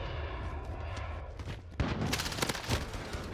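Shotgun blasts in Call of Duty: Modern Warfare, a sharp loud burst near the middle followed by several more reports over steady background game noise.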